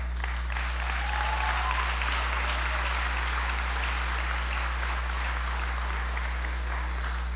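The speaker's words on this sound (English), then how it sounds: "I want y'all to keep that round of applause going" Sustained applause fills a graduation ceremony room for a high school class of 2023, a steady dense clapping throughout over a constant low electrical hum.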